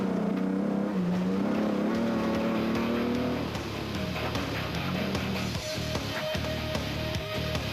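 A Nissan Hardbody Class D off-road rally race truck revs hard and climbs through the gears up close, then drops to a rougher, throbbing engine note, loud throughout.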